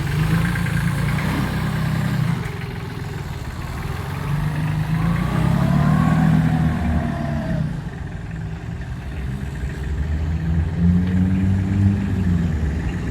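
A Solis 26 mini tractor engine runs steadily nearby at a low, rough idle, with slight rises in revs throughout, continuous and fairly loud.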